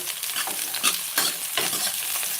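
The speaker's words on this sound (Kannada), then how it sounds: "ಸ್ವಲ್ಪ ದಪ್ಪ ದಪ್ಪಗೆ ಹೆಚ್ಚಿ ಫ್ರೈ ಮಾಡ್ಕೋತಾ ಇದ್ದೀನಿ ಎಣ್ಣೆ ನಾನು ಕಡಲೆ ಬೀಜದ ಎಣ್ಣೆ ಯೂಸ್ ಮಾಡ್ತಾ ಇದ್ದೀನಿ" Thickly chopped onions and tomatoes fry in groundnut oil, a close, bright sizzle broken by several rhythmic scrapes of a spoon stirring through the pan.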